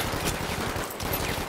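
A shotgun fires in Battlefield 5 during a chaotic team deathmatch. The blasts come in a quick, close run of sharp reports, loud against the game's background noise.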